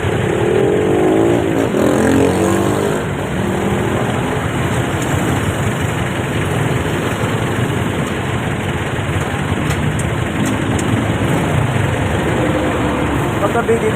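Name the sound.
motorcycles idling in street traffic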